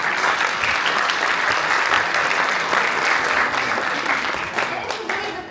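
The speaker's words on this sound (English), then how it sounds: "I would like to hear an applause." Sustained, dense audience applause fills a lecture hall, steady and loud throughout with a slight tapering at the very end.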